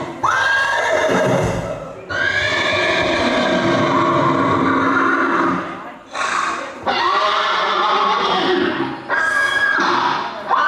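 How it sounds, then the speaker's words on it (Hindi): Horse neighing at a staged religious play performance in Gwalior, several loud, shrill whinnies rising and falling in separate bursts, close and prominent over crowd and hall noise. "घोड़े की आवाज।"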